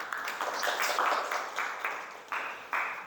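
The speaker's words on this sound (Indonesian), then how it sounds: "Tepuk tangan lagi untuk mereka." A classroom group claps for a group presentation, a short, quiet burst of uneven clapping with a few sharper claps standing out toward the end.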